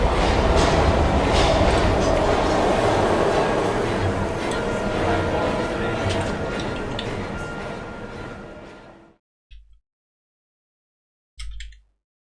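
A video game train runs along the rails with a loud, continuous rumble and clatter that fades out after about nine seconds, followed by a couple of brief later sounds.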